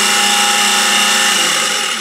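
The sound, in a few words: garbage disposal running dry with a loose grinding blade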